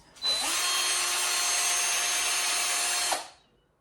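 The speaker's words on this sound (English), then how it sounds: "So I'm now gonna drill some guide holes." A power drill bores guide holes into wood, a steady high-pitched whine that starts abruptly, holds constant for about three seconds, then winds down, with no talking.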